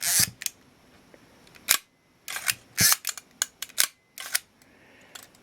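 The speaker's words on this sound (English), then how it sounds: "It's got a focal plane shutter, and so if we make sure that's out of the way, we can watch the shutter operate." The focal plane shutter of a Nikon Nikonos II camera fires repeatedly, giving sharp mechanical clicks and snaps at irregular intervals with quiet gaps between them.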